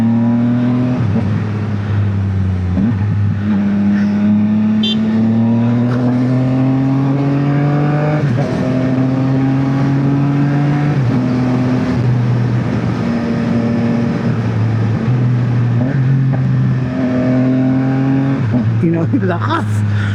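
A Yamaha XSR900 motorcycle engine revs during a ride, a loud, close droning roar rising and falling through repeated gear pulls, with wind rush throughout.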